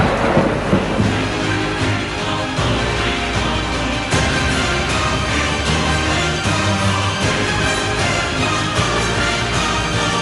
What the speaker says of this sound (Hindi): पंजाब में तेज़ आंधी और मूसलाधार बारिशों ने तबाही मचा दी है